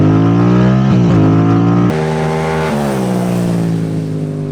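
Motorcycle revved hard and ridden fast on a mountain parkway, a loud close engine roar with harmonic pitch climbing and dipping through gear changes, with constant wind rush.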